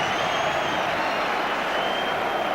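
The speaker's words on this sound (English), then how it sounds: "He gets a big ovation from the home crowd." A home football crowd applauds as a substitute comes on, a steady, dense wash of clapping and crowd noise from a large stadium at a 1989–90 league match, continuous and moderately loud throughout.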